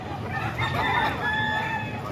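A rooster crows once at a rainy-morning chicken market in Bukawi, its call rising and falling over steady background murmur and market noise.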